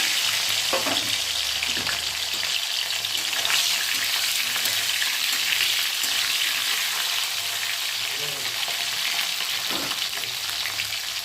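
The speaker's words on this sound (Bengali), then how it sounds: "ভাজা রয়েছে তবু আর একটু ভেজে নেব" Steady, loud sizzling of a fish head frying in hot oil, with occasional stirring scrapes and crackles throughout.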